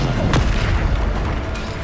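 A Bombarda spell explodes in Hogwarts Legacy: a single loud, deep boom with a sharp crack that rumbles away over a couple of seconds.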